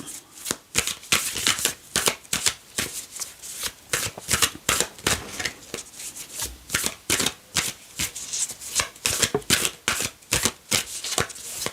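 Oracle cards shuffled by hand in quick repeated bursts of riffling and flicking, close and crisp, with no voice over them.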